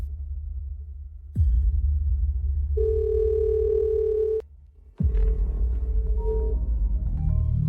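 A telephone call tone sounds while dialing: a steady electronic beep holds for about a second and a half, set between bursts of dramatic low background music, with no voices.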